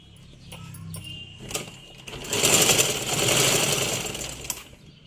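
A sewing machine stitches the side seam of a blouse in short bursts, first light and intermittent, then a louder continuous run of rapid needle clatter close by.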